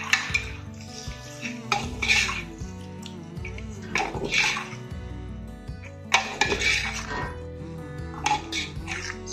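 Onion-tomato masala for rara mutton is stirred and fried in a pan, with bursts of spoon scraping and clinking against the metal every couple of seconds over a low sizzle.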